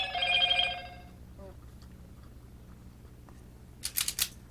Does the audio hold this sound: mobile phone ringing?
yes